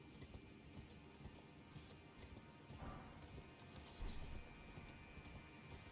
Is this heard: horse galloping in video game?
yes